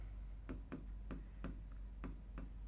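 Chalk or marker strokes on a classroom board, about seven short scratchy strokes in an uneven rhythm, close and fairly faint against a low background hum.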